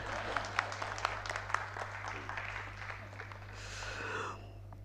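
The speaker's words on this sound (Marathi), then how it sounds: "त्याच्यासाठी टाळ्या वाजवा ना थोड्या." Audience applause at a Marathi literary society's 90th anniversary celebration in Mumbai, a steady crowd of hand claps filling the hall for several seconds without fading out.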